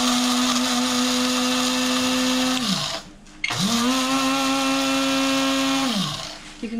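A countertop blender grinding worm bin grit whirs loudly and steadily, its motor pitch dropping as it stops briefly, then spinning up again for another long run before winding down.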